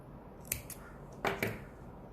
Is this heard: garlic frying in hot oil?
no